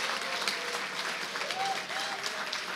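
An audience at an AARP lobby day breaks into applause, a steady wash of clapping at moderate distance that fades slightly near the end.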